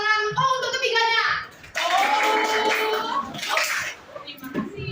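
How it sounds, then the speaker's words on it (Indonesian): A class of students claps hands in a classroom in a dense burst of a couple of seconds, with children's and adult voices talking before and after. "Beri tepuk tangan."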